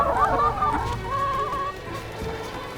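Chickens cluck and warble close by while grazing in a yard, a steady run of soft calls with one longer drawn-out note, no speech.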